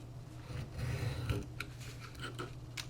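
A craft knife slices paper along a ruler for a Warhammer paper-craft farmhouse, giving quiet scraping strokes and a few soft ticks over a low background hum.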